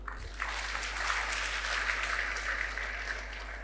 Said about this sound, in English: please, big round of applause for PTIT.